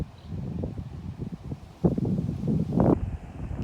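Gusty outdoor wind buffets and rumbles against the microphone in uneven surges, low and continuous with a couple of stronger blasts.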